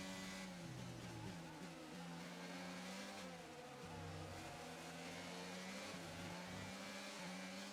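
A Formula 1 car in the F1 2022 video game accelerates out of a corner, its engine note climbing repeatedly through quick upshifts. The whine is loud, continuous and stands alone.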